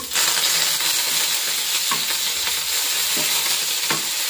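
Curry leaves hitting hot oil in a pan, a steady bright sizzle and frying crackle throughout, close and fairly loud, with a few light clinks of stirring.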